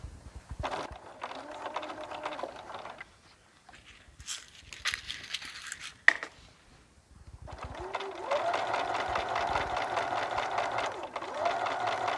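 A home sewing machine runs a straight stitch through a dress neck binding in two loud, steady bursts of rapid whirring and needle clatter, separated by a quieter pause with faint handling of fabric.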